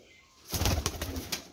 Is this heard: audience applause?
no